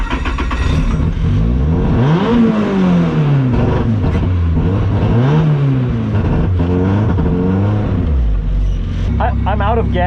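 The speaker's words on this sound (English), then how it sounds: "I'm about to do my first lap ever with the supercharger." A supercharged Toyota AE86 with a BEAMS engine on its first lap, engine loud and close as it revs hard and rises and falls through the gears.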